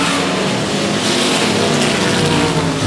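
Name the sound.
race cars lapping quarter-mile track at 105 Speedway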